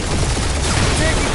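Gunfire during a firefight in the Guardians of the Galaxy video game, a loud, dense, continuous wash of shots with no clear breaks between them.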